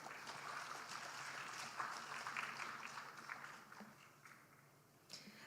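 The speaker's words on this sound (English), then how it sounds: "Please once again give applause to Ms. Endo and Ms. Eva." Audience applause at a medical devices regulatory symposium, a steady dense patter of many hands clapping in a large room, holding evenly for several seconds before tapering off, with a short burst of claps returning near the end.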